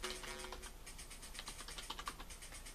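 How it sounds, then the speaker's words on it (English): Keys are pressed on an Amstrad CPC computer keyboard during a game of Death Wish 3, a quick run of light, irregular clicks and taps, faint and close, with no talk. "I'm going to press some keys."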